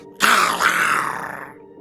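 A single drawn-out, gravelly vocal growl imitating the cry of the Pokemon Dragalge, loud and close, rising sharply and then sliding down before fading, with no other sound around it.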